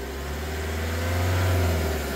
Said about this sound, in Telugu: एक बार रेस दे दो गाड़ी